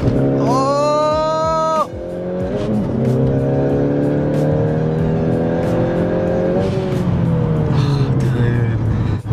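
Camaro 2.0L turbo with a ZZP tune held on two-step at a dead stop, traction control off, with loud rising revs bouncing off the limiter and popping, close and continuous for several seconds.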